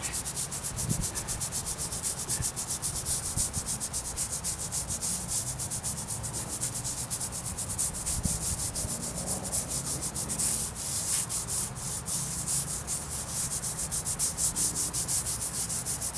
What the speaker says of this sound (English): Like when I'm scraping the lettering